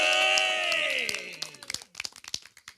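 A sustained musical chord from a live folk concert fades out while the crowd breaks into applause and cheers, with scattered claps growing sharper and more distinct toward the end.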